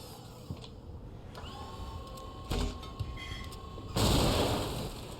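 Grenades go off in the Shadow Complex video game, a booming blast followed by a heavier, louder explosion that rumbles on over a constant game soundtrack drone.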